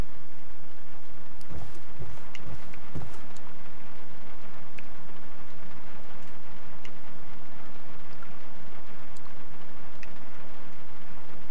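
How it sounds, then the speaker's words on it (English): Steady rain pours down outdoors in the stealth game Dishonored, a constant dense hiss with occasional sharper drops and patters standing out, heard alone with no talking. "And it's raining outside."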